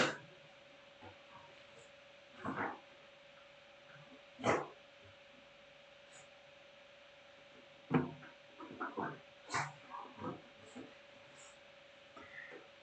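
A lively pet dog barks in short separate bursts, a few single yaps and then a quick cluster of barks, fairly close and loud against a quiet indoor background.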